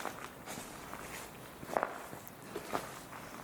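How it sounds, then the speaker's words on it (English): Footsteps crunch faintly across the 14th-century Disibodenberg monastery ruins in Germany, a few soft distant steps with a couple of sharper scuffs, heard alone without talk. "I hear footsteps."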